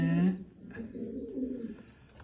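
Low, throaty cooing of domestic pigeon pairs with newly hatched chicks, close by, rising and falling in a short phrase with faint chirps above.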